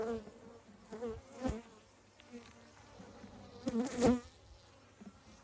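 Bees buzzing close by around an open hive during an October inspection, with loud bursts as individual insects fly past, over a quieter continuous hum.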